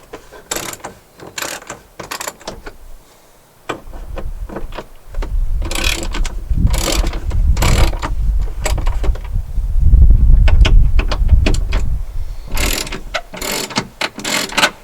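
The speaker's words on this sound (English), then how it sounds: "I had to get a 1/2 inch wrench to put on there." Ratchet wrench with a half-inch drive turning Torx bits on a 2006 Jeep Wrangler TJ during dash and heater work, giving repeated quick clicking bursts in several runs, close and fairly loud, over low mechanical rumble and handling noise.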